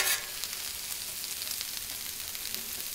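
Chicken pieces frying in canola oil on a Blackstone griddle, a constant bright hissing sizzle with faint crackles, close and steady throughout.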